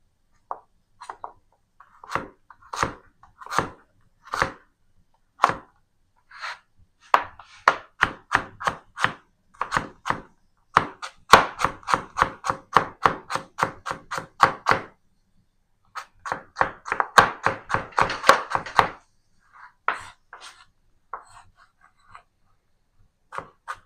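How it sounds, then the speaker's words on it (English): A knife chopping carrot on a board, crisp close thunks that start as spaced single cuts, then speed into rapid rhythmic bursts with brief pauses between runs. "So I'm just gonna chop a little carrot."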